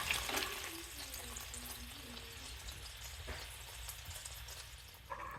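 An egg frying in a pan, a faint steady sizzle and crackle with a few light scrapes and clinks, close by, without talk.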